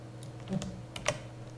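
Several quiet keystrokes on a computer keyboard: a few scattered clicks, close but faint, with no talking.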